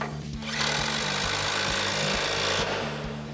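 Outer tie rod bolt on a Ram 1500 front suspension being run down with a 21mm socket on a power tool, a loud continuous rattling buzz for about two seconds, close up, over a pulsing low background hum.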